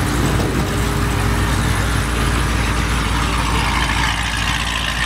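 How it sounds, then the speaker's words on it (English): A Corvette engine runs at a car meet, a loud, steady, deep rumble that holds evenly for the whole stretch with no voices over it. "this Corvette sounds mean"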